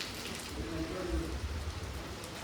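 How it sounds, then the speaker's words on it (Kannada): Steady rain falls outdoors at a place where rainwater makes the ground slippery, a soft continuous hiss with low rumbling underneath, moderately faint and unbroken throughout. "ಮಳೆ ಬತ್ತಾಯ್ತಲ್ವಾ."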